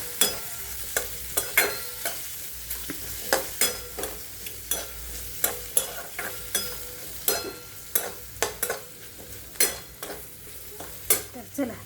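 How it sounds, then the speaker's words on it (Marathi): Cucumber curry with black masala sautéing in a pan: a steady low sizzle with regular clinks and scrapes of a spoon stirring, close and fairly quiet, with no talking. "छान मस्त परतून घ्यायचा काळा मसाला टाकून"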